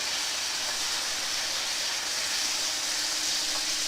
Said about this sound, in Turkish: Şöyle hemen hazır kızmışken etlerimizi içine atıyoruz.